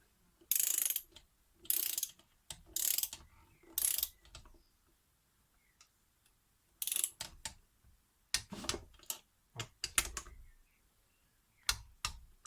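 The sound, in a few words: ratchet with 12 mm socket, Suzuki Swift gearbox assembly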